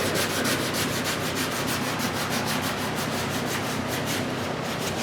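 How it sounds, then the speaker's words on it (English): Steady, continuous sanding of a car body ahead of primer, a dense rasping scrub with a regular back-and-forth rhythm, close and fairly loud, running without pause and with no voices. "How is sanding going?"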